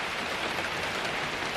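Steady rain falls on a cool 55-degree day, a constant broadband hiss with no distinct drops or pauses, heard alone without voices.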